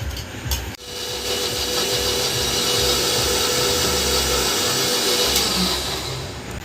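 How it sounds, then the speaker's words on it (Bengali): Large batches of spices such as ginger, mustard, chilli and tomato being ground into paste for a big home feast, a steady loud whirring, rubbing grind running continuously after a brief knock near the start, with no talk. "বড় বড় ডাব্বা করে মশলা বাটা হচ্ছে"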